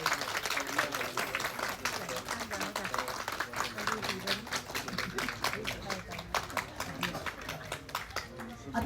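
Audience applause at a Nepali Tamang artists' award ceremony honouring a Yogita Moktan Pratibha Puraskar 2082 recipient: dense, sustained clapping from a crowd, fairly distant, with voices mixed in.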